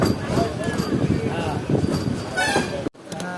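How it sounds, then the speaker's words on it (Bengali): A passenger train pulls out of Rampurhat station with a steady, loud rumble of wheels and carriages close by, a voice speaking over it, before the noise briefly cuts off near the end. "ট্রেন দেখতে পাচ্ছ তোমরা রামপুর থেকে বেরিয়ে যাচ্ছে আমাদের ট্রেন"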